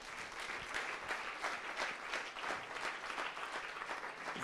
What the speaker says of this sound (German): großen Applaus nochmal für die vier